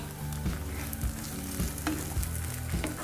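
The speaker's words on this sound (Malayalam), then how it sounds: "ഇതെല്ലാം കൂടെ ഒന്ന് മിക്സ് ചെയ്യാം." Cashew paste is stirred into a simmering chicken handi gravy, a steady sizzle under soft wet scraping strokes that repeat at a slow, even pace close by.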